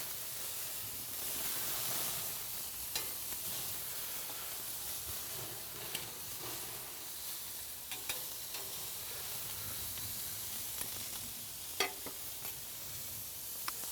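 Smoked burgers sizzle steadily on a Komodo Kamado grill after flipping, a soft continuous frying hiss with occasional faint pops and clicks, fairly quiet and close, no talking.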